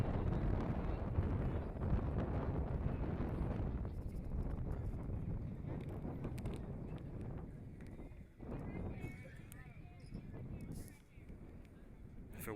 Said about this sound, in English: If it wasn't windy, it wouldn't be that cold, but the wind makes it pretty cold.